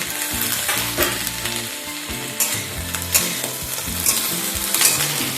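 Cauliflower stems, flat beans and eggplant fry in a pan with a loud, close sizzle, while a utensil stirs and scrapes the vegetables in irregular strokes; no voices.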